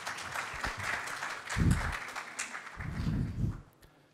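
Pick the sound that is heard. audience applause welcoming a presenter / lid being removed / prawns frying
audience applause welcoming a presenter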